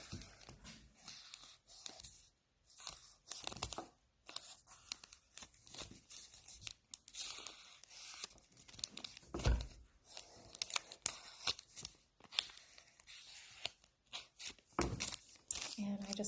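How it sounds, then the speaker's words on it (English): Scissors snipping triangles out of a folded paper snowflake, with a steady run of close crisp cuts and paper rustling, broken by short pauses and occasional louder crunches. "I'm going to go ahead and cut those out"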